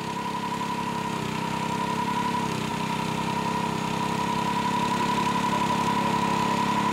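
A small engine powers a portable ski lift, idling in a steady close drone with an even low pulsing rhythm that holds constant throughout, with no talk.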